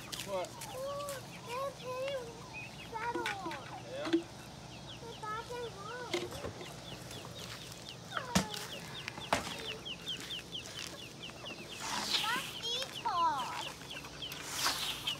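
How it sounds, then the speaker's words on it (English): Chickens cluck and chatter in a busy, fairly quiet mix, with scattered squawks and a few louder calls, while a child and an adult talk nearby. "They're called chickens."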